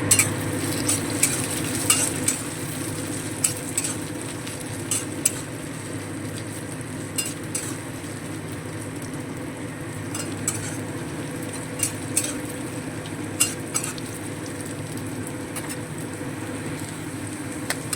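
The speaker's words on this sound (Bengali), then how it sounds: "এবারে আমরা এই সুইট কর্নটাও ভেজে নেব" Sweet corn kernels fry in hot oil for a crispy corn dish, a steady sizzle running throughout while a utensil stirs and scrapes the pan, with occasional sharp clinks of metal on metal; no one speaks.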